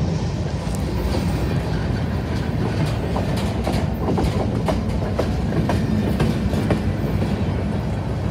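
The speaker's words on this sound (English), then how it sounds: "the train's probably slowing down for something" A CSX freight train rolls along the rails with steady rumble and irregular clickety-clack from the wheels, loud and continuous for the whole stretch.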